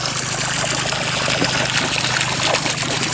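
Fresh water runs steadily from a pipe into a tilapia pit, a continuous close trickling and splashing with no break, over a low steady hum.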